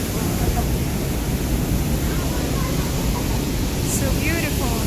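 Behind Niagara Falls in Ontario, the falls give a steady, loud, broadband roar of rushing water, unbroken and close throughout.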